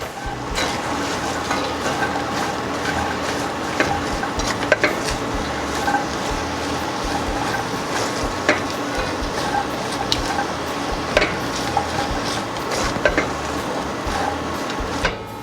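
Salt, potato and onions are stirred together in a pot for white bean and collard greens soup, with a continuous close scraping and clattering of a spoon against metal and faint sizzling underneath.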